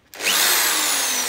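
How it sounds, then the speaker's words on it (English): A power drill fitted with a wide wire brush end spins up and grinds against vintage cast iron during a door bell restoration, a loud, steady abrasive whine that rises sharply after a brief quiet start and holds to the end. "this is what I do if I'm rubbing something down using one of these wide brush ends"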